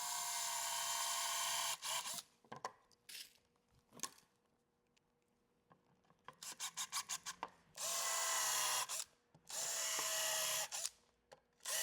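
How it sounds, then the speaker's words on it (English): A power drill bores and countersinks screw holes in a wooden table-saw miter sled, several loud whirring bursts of a few seconds each separated by quiet pauses and short rapid triggers. "I'll just drill and countersink"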